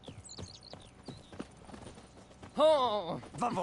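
Roach, Geralt's horse in The Witcher 3: Wild Hunt, clip-clops with a series of crisp hoof strikes, then lets out a loud, wavering neigh partway through, with hoof sounds continuing after it.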